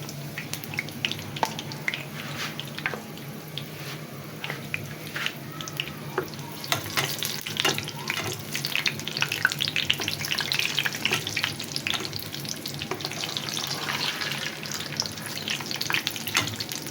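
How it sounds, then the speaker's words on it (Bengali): Chicken mughlai fries in soybean oil over medium heat, giving a continuous bubbling sizzle with frequent small pops and crackles that swell slightly midway and stay fairly even to the end. "তো চুলার আঁচটা আমি মিডিয়ামে রেখে ভেজে নেব।"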